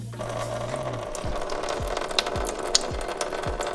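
A ratchet loosens the radiator drain plug under a BMW E36, giving steady repeated metallic clicks at an even rhythm, close and fairly loud, with a low hum at the start and no speech.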